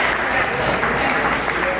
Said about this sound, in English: A big applause. Big applause.